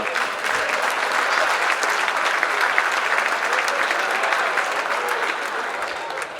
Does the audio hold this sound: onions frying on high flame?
no